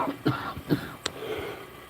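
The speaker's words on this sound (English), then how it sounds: "Oh, that's a horrible cough." A few harsh, rasping coughs in quick succession, close and fairly loud, with no talking.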